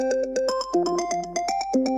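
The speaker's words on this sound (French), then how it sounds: "le téléphone sonne" A telephone rings on Christmas morning in a dramatized radio story, sounding as a bright, fast melodic ringtone of repeating electronic notes that plays on its own for about two seconds.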